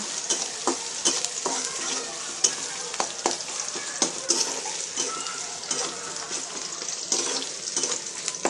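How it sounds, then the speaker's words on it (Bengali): Chopped onions sautéing in a pan as the base for a pabda fish curry with vegetables, a steady close sizzle with repeated scraping stirs and small clatters, no voices. "আর এখন হলো আমি পেঁয়াজ কষিয়ে নিতেছি মাছ রান্না করার জন্য।"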